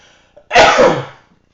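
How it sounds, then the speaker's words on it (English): A single loud sneeze, with a brief intake of breath just before, then quiet. "I feel like I'm about to sneeze"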